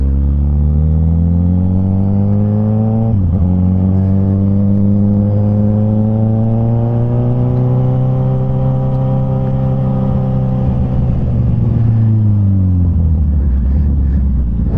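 A remapped Suzuki GSX-S1000 sport motorcycle engine drones loudly and steadily as the bike rides, pitch rising and falling gently with throttle, a brief dip around a gear change.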